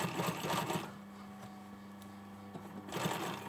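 A sewing machine stitches a hoodie sleeve in brief close bursts of whirring at the start and end, with a quiet pause between.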